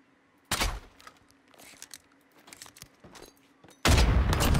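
Sharp, loud gunshots ring out in a Call of Duty Modern Warfare match, one abrupt blast near the start and a heavier burst at the end, with faint scattered game sounds between and a steady low hum.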